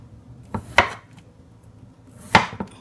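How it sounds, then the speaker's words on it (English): A knife halves potatoes on a cutting board, in preparation for canning: a few separate crisp chops, two close together, then a pause and two more, close and fairly quiet with no talking. "I'm going to start cutting them in half."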